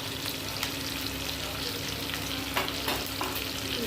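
Spices sizzle loudly in a pan for tadka dal, a close, steady frying hiss with a few sharper crackles and stirring scrapes near the end, no voices.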